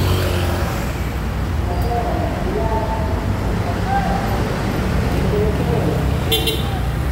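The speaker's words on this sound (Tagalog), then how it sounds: "Traffic." Road traffic under a flyover in Pasay: a dense, steady rumble of engines with occasional short horn toots, and a voice talking over it.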